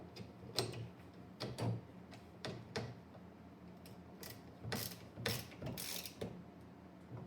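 A bolt on an ice fishing sled is tightened with a wrench in short, irregular metallic ticks and ratcheting clicks, close by but faint, with brief pauses between turns.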